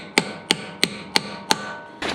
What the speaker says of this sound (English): You just hammer it on.